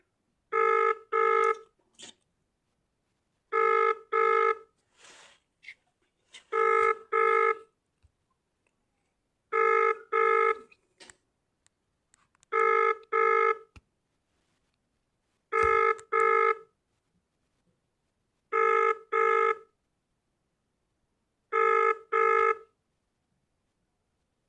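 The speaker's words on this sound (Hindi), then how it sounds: "ये फ़ोन नहीं उठा। मैं प्रयास कर रहा हूँ लगातार।" Landline telephone ringing unanswered on an outgoing call to a Ghaziabad police office, eight regular double-burst rings spaced about three seconds apart, clear and steady with no voice answering.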